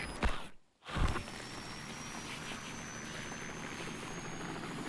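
A steady, droning helicopter rotor hum from the video game Metal Gear Solid V: Ground Zeroes fills the background, broken briefly by a short cut near the start before the constant noise resumes.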